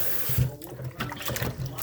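Water runs from a kitchen tap while air-fried chicken is being made, a short splashing gush that rises and falls in loudness.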